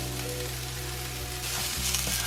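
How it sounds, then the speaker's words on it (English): Onions and a pinch of mild curry powder frying in a pan, a steady close sizzle with faint stirring scrapes and no talking. "So we'll fry the onions for about 4 or 5 minutes, make sure they're getting a little bit golden, a little bit soft."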